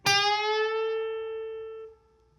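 A single plucked electric guitar note rings out and its pitch bends slightly upward before fading after about two seconds.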